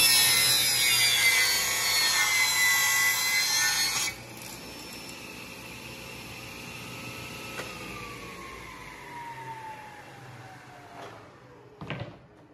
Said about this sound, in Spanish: Más o menos que cuando prendamos la sierra, el disco no toque aquí. Y vamos a prender.